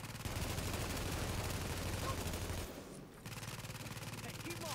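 Gunfire in the video game The Division rattles on as continuous rapid automatic fire, briefly dropping out midway before resuming, with faint talk underneath.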